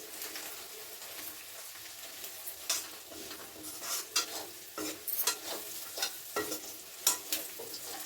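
Chicken fries in a pan with golden onions and green chillies. There is a continuous sizzle with frequent sharp stirring scrapes and clinks of a spatula against the pan, in an irregular rhythm.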